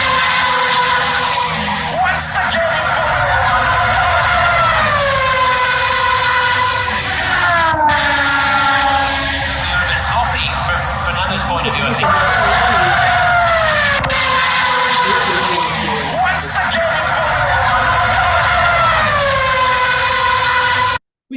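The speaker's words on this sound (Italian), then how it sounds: "il rumore più acuto nel momento in cui la macchina si sta avvicinando e il rumore diventa più grave nel momento in cui la macchina ci passa davanti" Car passing by with a Doppler pitch drop, heard as loud, sweeping siren-like tones that slide downward in pitch, repeating over several passes and cutting off abruptly at the end.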